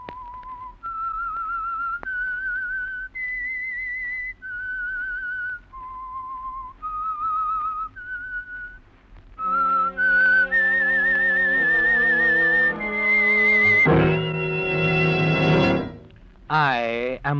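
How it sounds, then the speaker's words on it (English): A lone whistler carries the eerie signature melody of The Whistler mystery radio program, clear sustained notes, before an orchestra swells in beneath the final phrases. "That whistle is your signal for the Signal Oil Program,"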